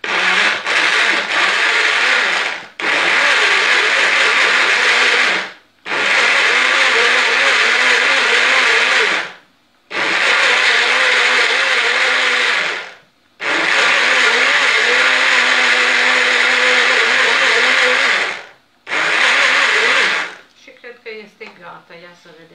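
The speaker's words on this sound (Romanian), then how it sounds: "Și mixăm, am să fac puțină gălăgie." A kitchen blender whirs loudly up close as it mixes lemon ice cream ingredients, running in five or six long bursts separated by brief pauses, then stopping.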